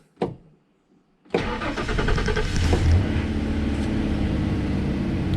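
A Ford Ranger pre-runner truck cranks briefly, pauses, then fires up and settles into a loud, steady idle close by, its rumble continuous to the end.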